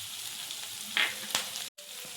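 Mixed vegetables sautéing in oil with turmeric, red chilli powder, coriander powder, garam masala and salt, a soft steady sizzle with a couple of brief stirring scrapes, fairly quiet and close.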